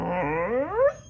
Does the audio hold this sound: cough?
no